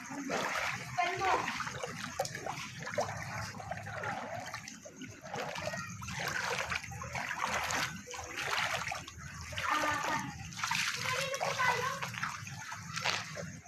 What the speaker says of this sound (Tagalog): Lusubin natin ang baha.